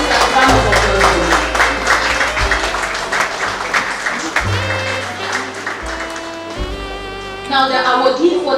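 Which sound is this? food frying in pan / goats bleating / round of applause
round of applause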